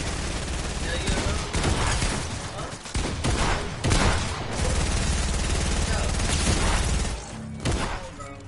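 Video game gunfire rattles in dense, loud bursts and sustained volleys throughout, with brief gaps between flurries and faint voices underneath.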